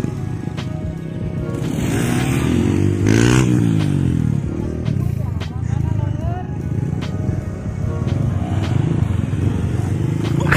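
Honda Beat scooter on an off-road trail ride, engine revving hard with the throttle opened, a rising surge near the middle amid scraping and clattering.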